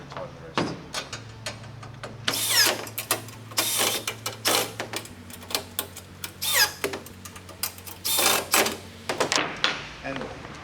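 Bolts are being tightened on a RolaCase floor mount enclosure, giving repeated close ratcheting and clicking bursts in an irregular rhythm, with a faint hum underneath.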